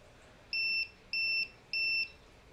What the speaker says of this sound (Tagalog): yung buzzer natin tuloy-tuloy ang pagbibip